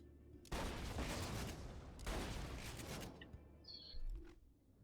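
A Bandit shotgun fires in Borderlands 2, two heavy blasts about a second and a half apart, each with a long rolling tail, followed by fainter game effects.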